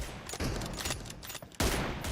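Rapid bursts of gunfire from a shooting video game, with dense overlapping shots, brief lulls and a loud renewed volley near the end, heard alone.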